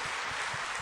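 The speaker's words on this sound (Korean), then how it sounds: "박수로 한번 환영해 주시죠." A church congregation applauds to welcome guests during a Sunday service, a dense, even burst of clapping throughout the short moment.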